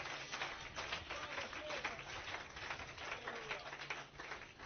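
A church congregation claps hands together at a revival service, a dense, steady patter of many hands filling the space without a break.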